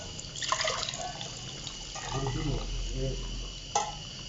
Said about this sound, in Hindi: हमने 1 मग जो है वो पानी का डाल दिया